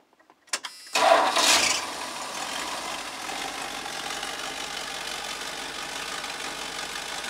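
A 1984 Dodge B350 church van with a 360 engine cranks with a few quick clicks, catches with a loud roar, then settles into a steady, even idle that runs on alone.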